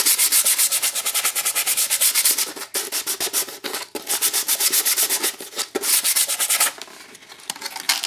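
Hand sanding roughens a painted surface to prepare it for contact cement, a loud, fast rhythmic rasp of quick back-and-forth strokes with a few brief pauses.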